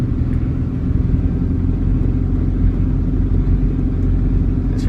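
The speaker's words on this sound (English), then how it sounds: "It's a ridiculous amount of traffic on this stretch." Dense road traffic rumbles steadily on a busy stretch of road, a continuous loud low drone of engines and tyres heard from close by, with no speech.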